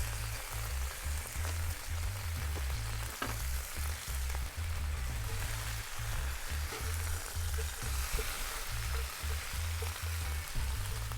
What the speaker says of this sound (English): You can see, get a nice sear on your lamb on either side.